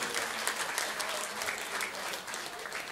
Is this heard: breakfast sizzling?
no